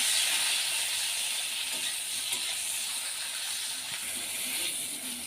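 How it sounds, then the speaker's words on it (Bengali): Cut brinjal slices frying lightly in oil with a pinch of salt, a soft steady sizzle running throughout with faint occasional stirring. "এবার ওই তেলের মধ্যে কেটে রাখা বেগুনগুলো ভেজে নেব"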